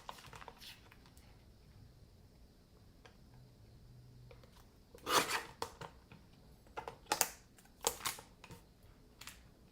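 Small paper trimmer slicing greeting card stock in a card-making craft session, a few sharp rasping cuts and clicks in short bursts against a quiet room, with no speech.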